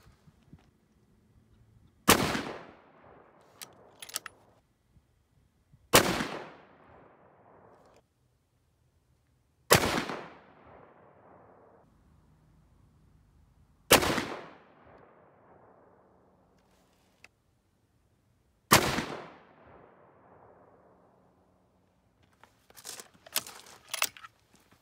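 A 6.5 Creedmoor rifle firing 107-grain Sierra MatchKing factory-second bullets, five loud, sharp shots spaced several seconds apart, each with a fading echo, quiet between and a few faint clicks at the end.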